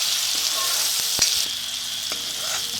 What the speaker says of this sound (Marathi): कांदा आणि टोमॅटो आपला एकजीव होत आलाय, हलवत राहायचं, त्याला मिक्स करत राहायचं सतत